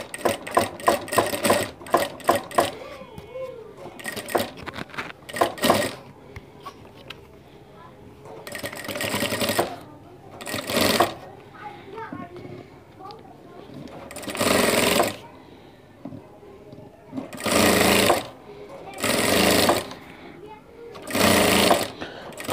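A sewing machine stitches piping on a panjabi in several loud, rapid bursts separated by pauses, close by, with a person speaking between runs.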